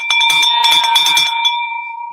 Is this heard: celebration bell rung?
yes